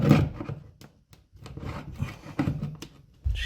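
A chisel chipping out a broken ceramic wall tile gives rough, uneven scraping and rasping strokes in short bursts with brief pauses, close and fairly loud, and no one talks.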